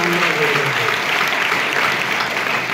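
Audience applause at a public lecture series, steady and loud throughout with dense clapping from a crowd, filling the whole moment without pause.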